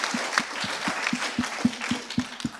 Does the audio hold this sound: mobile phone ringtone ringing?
no